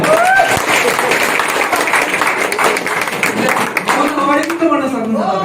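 Audience applause at a Healthy Living Nepal closing health session, a steady dense patter of clapping filling the hall for several seconds, with a voice speaking over it near the end.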